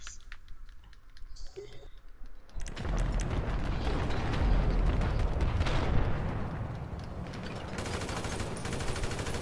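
A quieter mechanical clicking opens, then GTA 5 video game gunfire bursts in: dense, loud, rapid automatic shooting that keeps going without a break to the end.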